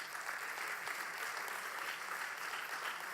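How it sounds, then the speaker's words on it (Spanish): Congregation or audience applause during a Spanish-language sermon, a steady, fairly faint wash of clapping with no clear talking over it. "Dale un aplauso por esto."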